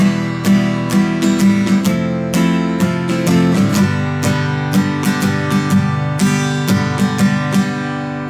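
Acoustic guitar strummed steadily across all strings, full even chords in a continuous up-and-down rhythm, close and loud, with no voices.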